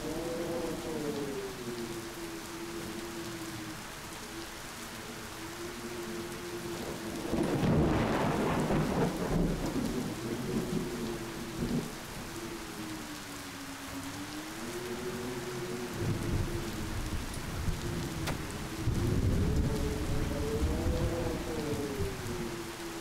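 Thunder rumbles and rain falls steadily in a storm in the video game Cattails, with a loud thunder crash partway through and further rolling thunder later over a constant hiss of rain and a low wavering tone.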